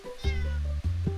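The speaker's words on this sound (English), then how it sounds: "jumps right back into my room, and then just meows at me" A cat meows twice indoors in a room, loud and close, with long drawn-out calls and no talking.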